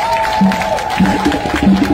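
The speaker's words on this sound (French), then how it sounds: "Il faut les applaudir très fort." Loud, close crowd noise at a political rally in Bouaflé, Côte d'Ivoire, with dense clapping, cheering and shouting voices filling the whole span.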